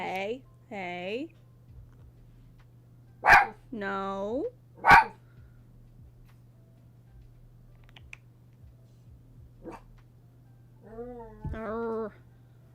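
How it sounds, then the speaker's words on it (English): Schnauzer dogs bark in short bursts of several sharp, harmonic yaps, a couple of loud clicks between, with a steady low hum running underneath. "I may need to go see what they are barking about if this continues."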